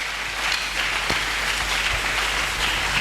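A church congregation applauds and cheers during a sermon, a dense steady wash of many hands clapping at once, fairly loud and without a break.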